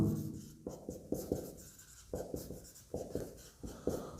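Chalk or marker strokes on a board during a class 11 maths lesson on polygon angles: a run of short, scratchy taps and scrapes in uneven bursts, close and fairly quiet, with no talking.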